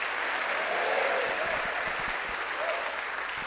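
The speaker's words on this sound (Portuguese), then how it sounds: "Você pode aplaudir o Senhor por isso?" A church congregation applauding during a sermon, steady dense clapping from many hands filling the room at an even level throughout, with no voices over it.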